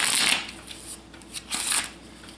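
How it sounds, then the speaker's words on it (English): Playing cards are riffled together close up, a quick fluttering burst of flicks, then a few softer riffles and taps. "All you do is riffle shuffle."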